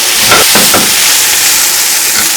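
Red wine boiling down in a pan for a pasta sauce gives a loud, steady, close hiss and sizzle with a few brief bubbling bursts near the start.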